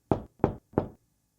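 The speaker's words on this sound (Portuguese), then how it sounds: "Chapeuzinho chegou à casa da vovó e bateu na porta." Three sharp knocks on a door, evenly spaced and close, each a solid thud, then silence.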